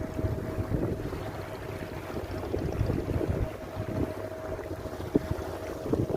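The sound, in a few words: sea waves roaring at Cox's Bazar beach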